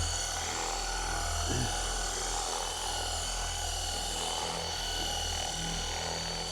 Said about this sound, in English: you can use a machine polisher just to help you get your application